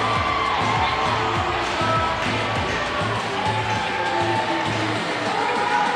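A loud arena crowd cheers and shouts steadily after a gymnastics floor routine at the 2017 MAC Championships, with rhythmic stomping or clapping beats under the roar.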